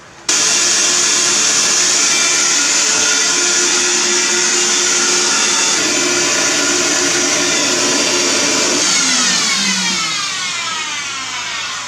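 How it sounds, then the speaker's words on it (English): An angle grinder cuts two old bolts off the floor of a vintage 1974 Avion camper, a loud, close, continuous high whine that drops in pitch and fades as it spins down at the end. "Now I got to take a grinder and knock off 2 bolts there, 2 of the original bolts."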